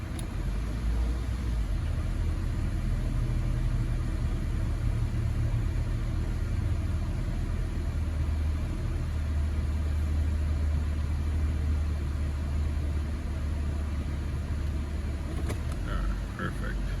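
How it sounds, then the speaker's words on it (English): A 2013 Honda Civic with a rough-idle and stalling problem sits idling, its steady low engine rumble continuing evenly and up close for the whole stretch. "The idle is slowly coming down."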